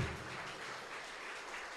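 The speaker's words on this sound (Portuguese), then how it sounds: "Aplauda o Senhor, Ele está aqui" A church congregation at an evangelical service claps together, a steady, fairly faint wash of applause that runs unbroken through the moment.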